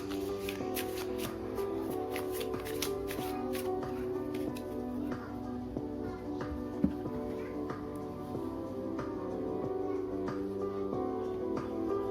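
Tarot cards shuffled by hand, a steady, continuous riffle of card stock close up, running throughout under a faint tonal background.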